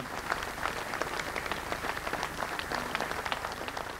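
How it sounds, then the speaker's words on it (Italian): Mourners applauding at a funeral in Padova as the coffin is honoured, a sustained outdoor patter of many hands clapping at an even, moderate level from a large crowd. "Ancora un applauso."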